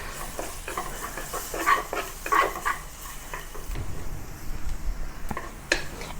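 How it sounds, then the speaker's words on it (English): Carrot stir frying in a hot pan, with soft sizzling and repeated scraping stir strokes that come in bursts and then settle into a quieter crackle, with no talking. "add the carrot. Let it stir fry for a short while until it starts to turn soft."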